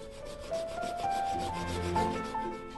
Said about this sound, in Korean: 이 작업은 활비비를 사용하여 칼자루와 칼집에 구멍을 내는 과정입니다.